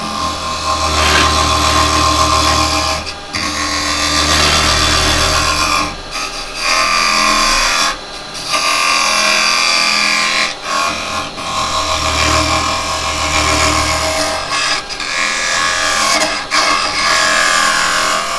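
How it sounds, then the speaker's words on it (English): Chisel cutting dead into the end grain of a piece spinning on a wood lathe, a continuous loud rasping, scraping roar that rises and falls in a few surges with brief pauses, close and without talk. "can hear the noise, that's because I'm going dead onto end grain"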